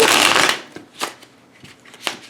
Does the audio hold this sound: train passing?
no